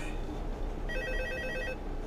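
A telephone rings in the Five Nights at Minecraft video game, a short electronic trill starting mid-clip over a low hum, close and clear with no talking.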